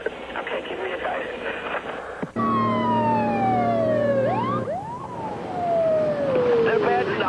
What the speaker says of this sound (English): I did hear your fire siren blow.